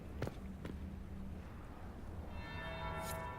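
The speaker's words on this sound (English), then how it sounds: "That would be the second bell." Church bell in the video game Dragon Age Inquisition, one clear ringing strike coming in late over a low rumbling ambient background with faint footsteps.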